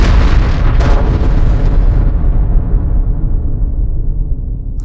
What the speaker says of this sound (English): So he charges forward, and there's this explosion.